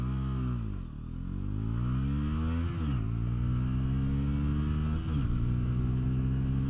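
A Bajaj Pulsar N160 motorcycle accelerates hard in its sport riding mode, the engine note climbing steadily through the gears with brief dips at each shift, loud and close from the rider's position.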